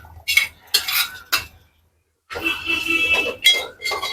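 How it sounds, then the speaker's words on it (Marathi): Dried Bombay duck (bombil) being stirred in hot oil with masala, clattering spoon-on-pan scrapes in short bursts around a brief pause, close up, with a faint sizzle under the stirring. "बोंबील परतून घ्यायचे तेलावरती जरा अर्धा मिनिटभर"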